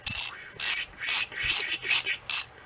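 A 3/8 inch drive ratchet spins a loosened bolt, giving six quick bursts of rattling clicks in an even rhythm, close and loud, with no voices.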